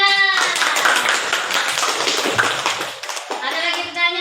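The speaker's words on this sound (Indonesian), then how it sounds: "Tepuk tangan." A classroom of students claps together during a religious history lesson, a dense, steady patter of many hands lasting several seconds at close range, with faint children's voices mixed in.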